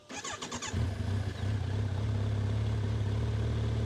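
A 2025 Kawasaki Versys 1100 motorcycle engine cranks over with a brief stuttering start, then settles into a steady, loud, low idle rumble that holds on without talk.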